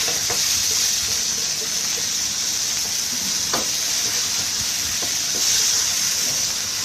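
Fish and shredded fingerroot stir-frying in a hot wok give a steady, loud sizzle with occasional scraping stirs.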